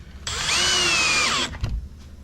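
A power drill drives a finished screw straight into the frame of an RTA cabinet. One loud continuous whir runs for just over a second, and its pitch sags slightly as the screw seats, followed by a brief clunk and then quiet.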